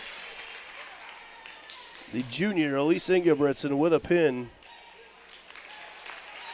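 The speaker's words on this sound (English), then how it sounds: "She gets a big round of applause from the North Polk faithful." Home fans applaud after a junior wins by pin in a North Polk girls wrestling dual, steady crowd clapping in the background beneath a commentator's voice that runs through the middle.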